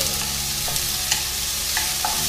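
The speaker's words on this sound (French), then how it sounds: "Que je vais faire cuire pendant deux petites minutes sans cesser de remuer" Shallots fry in sunflower oil in a wok over fairly high heat, a constant close sizzle broken by several light clicks and scrapes of a stirring utensil.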